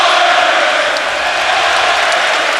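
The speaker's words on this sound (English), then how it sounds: "Listen to this crowd." A dense, roaring wall of crowd noise fills a basketball arena during a Warriors–Mavericks playoff game, loud and sustained cheering with scattered whoops throughout.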